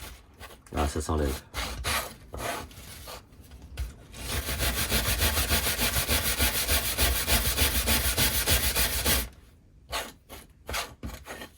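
Wood on a Snowpeak PP750 piece is sanded by hand, starting with scattered scraping strokes and then a sustained stretch of fast, steady rubbing, close by, before a few final separate strokes.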